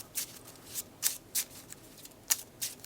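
A deck of cards for the Marvel Champions card game is shuffled by hand, giving crisp, quick riffling bursts at close range in an irregular rhythm against a quiet background.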